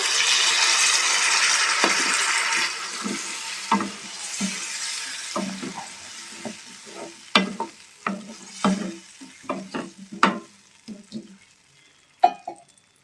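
Tamarind juice is poured into an onion curry cooking in a pan, giving a burst of hissing sizzle that fades into a gentle simmer with repeated spoon stirs and knocks against the pan.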